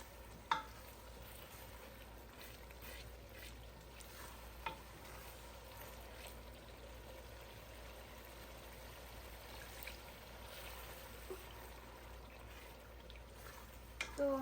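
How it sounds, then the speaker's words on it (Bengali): Masala frying and being stirred in a pan for home-style Qurbani beef curry, a steady low sizzle running throughout with occasional soft clicks of a spoon against the pot. "এতে এই মশলাটাকে ভালো করে কষিয়ে নেব"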